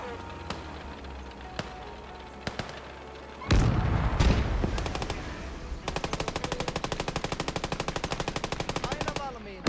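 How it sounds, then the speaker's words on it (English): Machine gun fire in the video game Gates of Hell, with a few scattered single shots, a heavy blast, then a long, steady, rapid burst of close automatic fire. "who's shooting us right now?"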